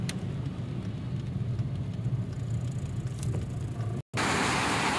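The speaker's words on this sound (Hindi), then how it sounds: "अभी मैं गाड़ी रोक रहा हूँ।" A car comes to a stop in heavy rain on a road in Medina, a steady rumble of engine and rain that cuts off briefly near the end before a bright rush of rain noise returns.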